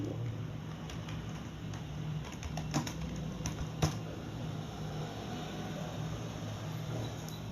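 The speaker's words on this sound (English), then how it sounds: "So if I just type" Typing on a computer keyboard, a scattering of faint close key clicks over a steady low hum, with a couple of slightly sharper taps midway.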